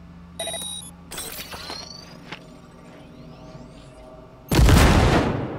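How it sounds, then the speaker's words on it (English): A grenade in Cyberpunk 2077 detonates with a loud, sudden blast and crackling debris that tails off, preceded by scattered electronic beeps, clicks and metallic impacts in a quiet in-game scene. "Now, detonate the grenade."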